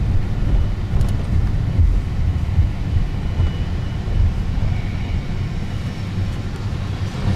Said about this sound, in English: Dreamliner coming towards us. It's under power, so it's got its lights flashing.